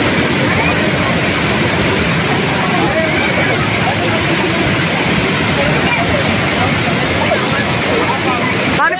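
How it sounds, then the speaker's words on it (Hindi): Mountain water rushes and churns loudly on a Nainital trip in Uttarakhand, a steady broadband roar that stays constant throughout, with voices talking over it. "यहाँ पर पानी का फ्लो इतना कमाल का"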